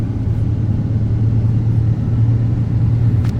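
A heavy truck or tractor-trailer engine rumbles steadily in a low gear on a steep downhill bend of a mountain road, a continuous deep drone with little change in pitch, close and loud throughout.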